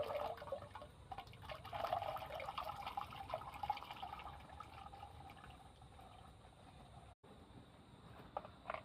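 Bhokar fruits are dropped into a pot of heating water, producing faint, quiet splashing and dripping sounds that fade slightly before a brief gap near the end.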